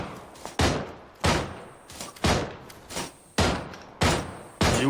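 Gunfire in PUBG, a series of about seven loud single shots spaced roughly half a second apart, each with a sharp crack and a decaying echo tail.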